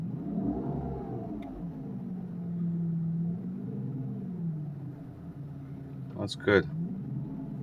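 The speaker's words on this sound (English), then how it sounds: "That's how V12 sounds, really." A 2002 Mercedes S600 with a V12 engine idles smoothly, not fully warmed up, producing a low, steady rumble that gently rises and falls; someone speaks briefly near the end over a short sharper noise.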